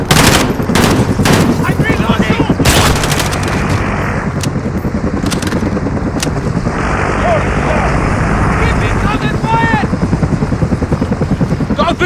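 Rapid automatic gunfire and explosions from the Call of Duty Modern Warfare video game, loud and continuous with a helicopter-like rumble beneath, bursts clustered early and dense throughout.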